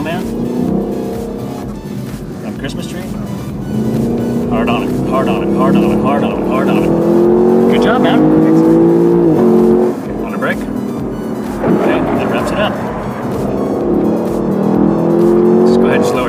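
A Lexus LC 500 accelerating on a race track, its engine note rising and falling through the gears with rhythmic shifts and a steady roar. An instructor talks over it throughout.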